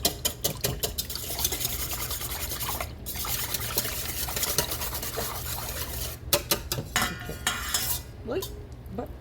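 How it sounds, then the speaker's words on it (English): Chocoflan batter mixed by hand in a bowl, giving continuous close squelching and stirring with occasional clinks against the dish, and no talk over it. "I'm just going to mix it with my hands"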